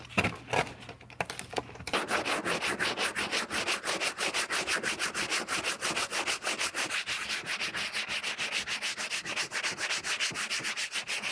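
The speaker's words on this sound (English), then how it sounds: "I'm going to grab some 80 grit sandpaper, and that's what I'm going to start sanding with" Rapid, rhythmic hand sanding of body filler with 80 grit sandpaper, steady back-and-forth rasping strokes close up after a brief scrape at the start.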